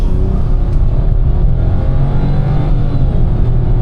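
A Nissan Magnite with a turbo engine and CVT gearbox accelerates from the driver's seat, its engine droning loudly and steadily under a continuous low rumble, with no talking.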